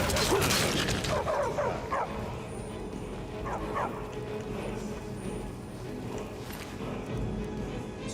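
A dog barks and yips in Skyrim, several sharp woofs in the first four seconds with softer whimpers after, over game ambience and faint talk.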